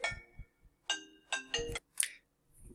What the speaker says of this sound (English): excuse the phone call